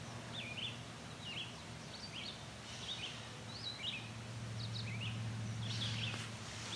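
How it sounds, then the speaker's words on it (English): A gray catbird gives short, repeated mewing calls, faint and somewhat distant over a low background hum, at a spot called Swan Lake Lane. "You can hear that catbird meowing."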